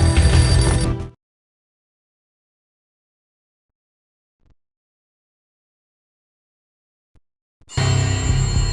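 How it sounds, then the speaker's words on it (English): An old, beaten-up phone in an entrance hall rings in Max Payne, two loud bursts of ringing at the start and end with near silence between them. "beaten-up phone in the entrance hall was ringing"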